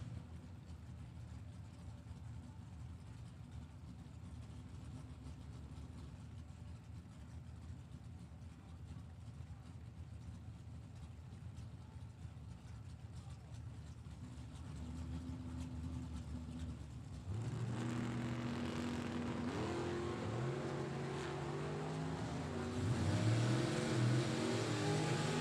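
At a drag strip, an Oldsmobile and a Mustang sit with engines running, a low rumble heard from a distance that swells into louder revving near the end, with people talking in the background.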